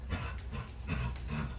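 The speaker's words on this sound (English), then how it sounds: "That's my dog, you can hear him." A dog whimpers softly indoors, its faint whines rising briefly over a low, steady room rumble for a couple of seconds.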